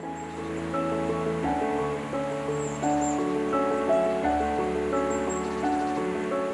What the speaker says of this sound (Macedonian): Жуборот на потокот под Ченгино Кале